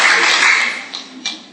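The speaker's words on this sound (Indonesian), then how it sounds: "Tepuk tangan cepat." An audience in a church service claps hands in a quick, dense burst that thins out into a few separate claps.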